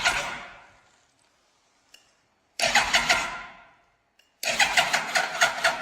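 A 1998 Yamaha R1 motorcycle engine, abandoned and wrecked, cranks in two long rhythmic bursts of churning starter noise, separated by silence, close and loud, without catching.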